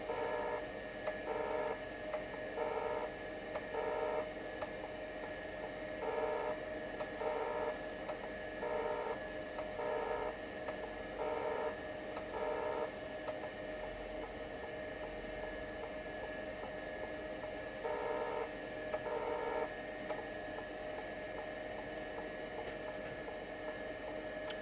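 A vintage 5.25-inch Seagate ST-277N hard drive runs under test with a steady hum, and a rhythmic pattern of seeking clicks repeats throughout.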